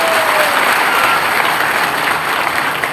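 Loud, dense applause from an event audience welcoming a guest, continuous close clapping that holds steady throughout.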